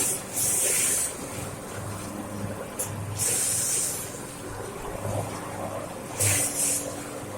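A homemade snowblower's engine runs steadily with a low droning hum, broken by recurring loud rushing bursts of spray, all heard up close with no talking.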